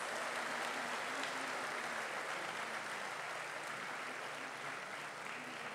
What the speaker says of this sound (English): please give a round of warm applause to your families